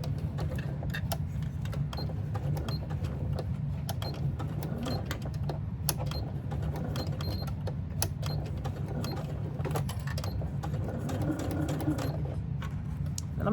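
Sewing machine stitching an owl-face handbag, a steady fast mechanical whir with rapid needle ticking running throughout at close range, no talking.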